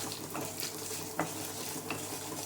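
Urad dal roasting with Byadagi red chillies in a pan, a faint, even dry sizzle with a couple of soft stirring clicks.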